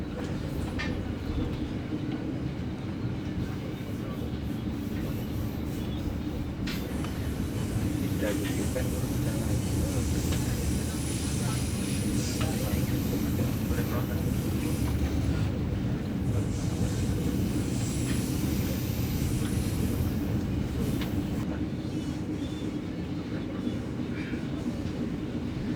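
The Erlangga economy-class train runs after departing Pasar Senen station in Jakarta, giving a continuous loud rumble and rattle of rail cars, with a voice talking over the noise.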